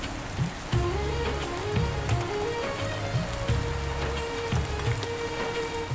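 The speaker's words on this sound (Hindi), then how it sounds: "इतनी बारिश के बाद भी आप देर से कैसे आए?" Heavy rain pours steadily in a Hindi cartoon story, with a dense hiss of drops on surfaces alongside a repeating low musical background, no voices.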